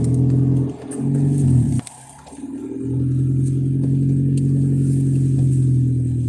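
A very small car drives slowly into a McDonald's parking space, its engine humming steadily close by, dipping briefly as it slows, then settling into a low idle; no speech.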